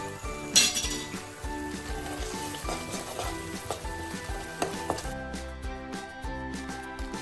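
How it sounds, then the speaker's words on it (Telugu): Chili powder, salt and turmeric being stirred in a pan for paneer masala curry, with repeated metal clinks of a spoon against the pan over a continuous kitchen background, fairly close and steady throughout. "ఒక స్పూన్ సాల్ట్, ఒక 1/2 స్పూన్ పసుపు వేసుకొని ఇది దగ్గరికి వెళ్ళే వరకు కలుపుకోవాలి"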